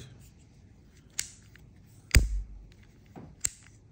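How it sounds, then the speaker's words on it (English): The drag clicker on a Histar Aurora Air BFS AT7 baitcasting fishing reel gives a few sharp, isolated clicks, three standing out over a quiet background; close and crisp, with no voices. "Nice drag clicker."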